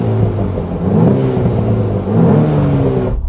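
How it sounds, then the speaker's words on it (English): The turbocharged engine of a 2015 BMW Z4 sDrive20i M Sport revs up twice, rising and easing in a loud, close whirring hum heard from the cabin, then cuts off abruptly. "So you can hear the turbo."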